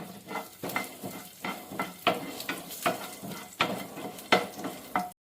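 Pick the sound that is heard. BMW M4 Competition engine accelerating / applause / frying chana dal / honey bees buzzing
frying chana dal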